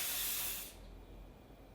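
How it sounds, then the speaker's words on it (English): Hairspray sprayed onto a wig, a short close aerosol hiss lasting under a second, then cutting off to quiet room tone. "So I need to layer this with some severe hairspray."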